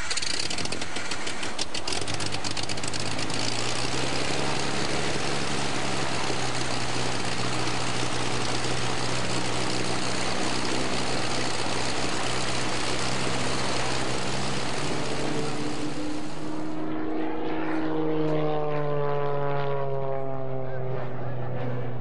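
An airplane's propeller engine at a 2004 airshow in Twin Falls runs with a loud, steady droning hum, then near the end shifts in pitch with a sliding, wavering whine as it changes speed.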